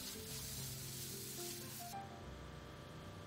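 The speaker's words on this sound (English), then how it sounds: "The dial-a-jet is a versatile nozzle. It has five options from spray to jet to fog." A dial-a-jet firefighting nozzle sprays water in a steady, loud hiss that carries on throughout. The tone shifts noticeably partway through as the spray pattern changes.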